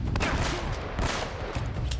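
Enemy shotgun fire booms in quick succession during a firefight in Uncharted: Drake's Fortune, loud and close, with heavy blasts overlapping amid battle noise.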